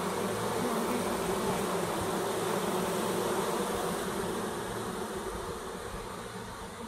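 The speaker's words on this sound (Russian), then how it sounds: "Вот такие пчелки." A freshly caught swarm of honey bees drones in a dense, continuous buzz, close and steady, with no voices and a slight fade toward the end.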